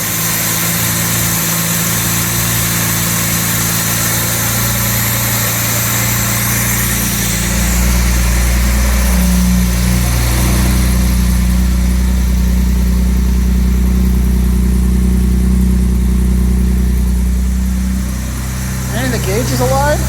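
Original 1962 Jaguar E-Type 3.8 engine running, a loud steady idle with a deeper hum building partway through, under a continuous hiss, while people talk nearby.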